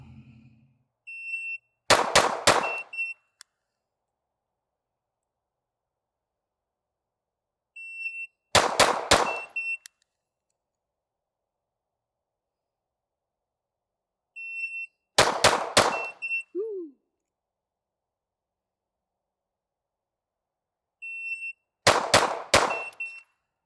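Handgun shots in a self-defense shooting drill, fired in four separate strings of three quick, sharp, loud cracks each, with several seconds of silence between strings and a beep signalling the start of each.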